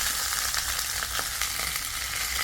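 Banana-leaf-wrapped fish frying in a pan makes a steady, dense sizzle with continuous crackling and popping and no voices.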